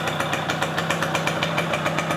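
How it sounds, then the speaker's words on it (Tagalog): Yamaha RS100T two-stroke motorcycle engine, freshly overhauled and smoky, running steadily near the listener with a loud exhaust fitted with a hose, giving a fast, even pulsing rhythm. "Nilagyan ko ng hose sa tambutso kasi maingay, sobrang ingay"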